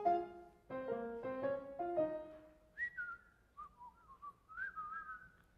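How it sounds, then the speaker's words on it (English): Several people whistle part of a song together, first a run of clear, short melodic notes, then a few longer wavering tones, moderately loud with no talking. "there's also a whistling part for those who don't want to sing"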